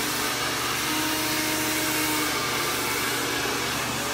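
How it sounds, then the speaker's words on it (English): A handheld blow dryer roars steadily and close throughout while being used with a brush to dry hair, a constant loud airy whoosh with no talking. "You always want the blow dryer with the brush to go down to the brush."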